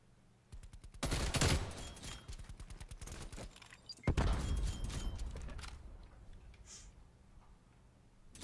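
In a first-person shooter game, a KSP 45 fires loud rapid bursts in two long volleys, each opening with a heavy crack, then settling into a faint background clatter.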